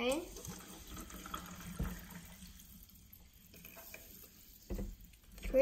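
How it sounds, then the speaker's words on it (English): Sparkling bottled SmartWater pours into a glass with a faint, steady splashing trickle that swells near the start and again toward the end, with no one talking. "Let's pour some water in."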